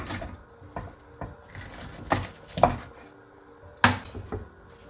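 A knife chops an onion on a board in a home kitchen, a handful of sparse, uneven knocks and clacks close by, with quiet gaps between cuts.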